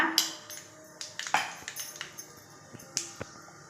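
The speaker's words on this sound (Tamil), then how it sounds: "இந்த கடுகு நல்லா பொரியட்டுங்க" Mustard seeds splutter and pop in hot oil, a scatter of sharp close crackles and ticks at irregular intervals over a quiet background.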